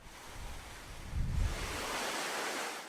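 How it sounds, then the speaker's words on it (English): Storm waves crash on Portugal's coastline against seawalls, a broad roaring surge that swells to a heavy low boom midway, then settles into continuous wind-blown surf noise. "Waves reached up to 13 meters high, battering seawalls and flooding homes."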